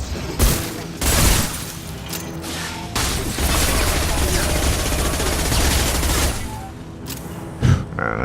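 Sustained bursts of automatic gunfire in the video game Mass Effect 2, rapid loud volleys with mechanical clatter running for several seconds between sharper single blasts, no talking.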